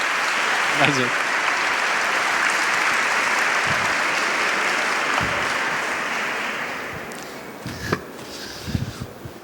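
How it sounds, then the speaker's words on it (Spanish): A conference audience applauds in a steady, dense wash of clapping that fades out after several seconds, followed by a few scattered knocks and a brief spoken thanks. "Un aplauso."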